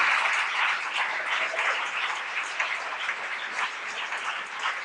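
A church congregation applauds, a dense, sustained patter of many hands clapping at steady volume throughout, heard alone without talk.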